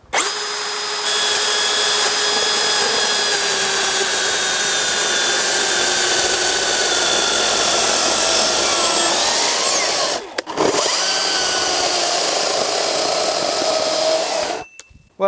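Battery chainsaws from Makita and Milwaukee plunge-cut into wood, a loud sustained high-pitched whine held for about ten seconds, a brief drop and restart, then continued cutting until it stops near the end.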